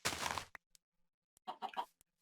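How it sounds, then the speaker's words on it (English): Chickens clucking in the Minecraft video game, a few short, sharp synthetic clucks in bursts with silent gaps between them. "I should get some of these chickens too."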